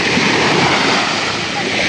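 Sea waves wash steadily onto the shore at sunset in a constant, broad, moderately loud surf rush, with wind buffeting the microphone.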